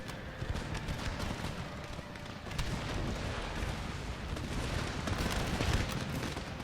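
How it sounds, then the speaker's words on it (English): Cannon and musket fire roll through an Empire: Total War battle against sepoy squares in French India, a dense, continuous barrage of booming shots and crackling volleys at steady loudness with no pause. "As soon as I started hitting them with cannon, it seems they are breaking their squares now."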